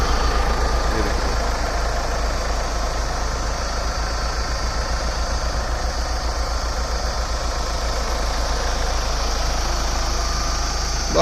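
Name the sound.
Mahindra Scorpio 2100 cc engine idling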